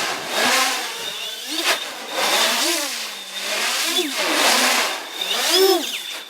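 An iFlight X-Class 8S FPV drone flies with a high, whining motor buzz that swells and falls in repeated passes, pitch sweeping up and down as it revs, loud and fairly close.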